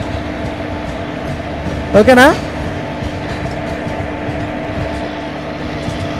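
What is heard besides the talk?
WAP7 train running in Trainz Simulator video game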